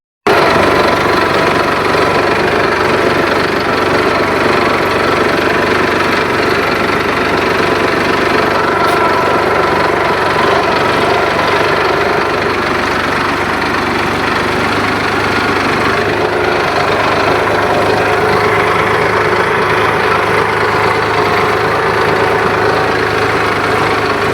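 A tractor engine runs steadily during farm plowing work, a loud continuous mid-pitched rumble with a knocking, hammering texture that stays even throughout, with no talk.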